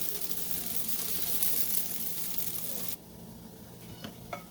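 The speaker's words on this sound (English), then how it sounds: "when it's hot, go ahead and bring our Mhajeb. Let them cook for 1 minute each side" Mhajeb, Algerian stuffed flatbread, sizzling on a hot griddle, a close steady hiss that suddenly drops quieter partway through, followed by a few faint scrapes and taps.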